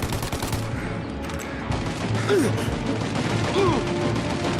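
Gunfire in the Mafia: Definitive Edition shootout during a country trip: dense bursts of shots and impacts over a noisy game mix, with brief whistling tones and shouted voices partly masking it.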